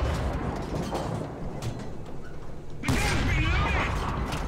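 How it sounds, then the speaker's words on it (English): A German Rank I tank in a war video game fires armour-piercing rounds at a Soviet tank, a loud sharp blast erupting near the end over a steady rumbling engine bed. "So we're firing normal AP rounds"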